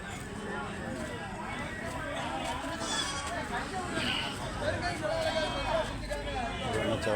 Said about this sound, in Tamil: இது செம்மறி குட்டி நல்லா பார்க்க நல்லா இருக்குது